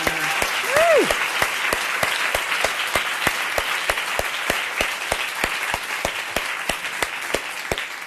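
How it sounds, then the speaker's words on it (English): A conference audience at a women's networking event applauds its panellists, steady dense clapping filling the room throughout, with a brief cheer near the start. "just extend a huge round of applause for our panellists"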